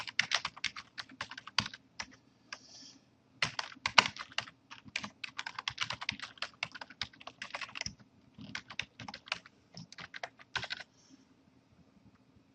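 Login details being typed on a computer keyboard, crisp close key clicks in quick irregular bursts separated by short pauses, with a low steady hum underneath.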